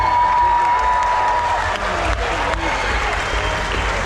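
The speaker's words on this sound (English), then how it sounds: "Another big round of applause" Steady, dense applause from an audience at an Irish dance festival, loud and sustained throughout with crowd noise mixed in.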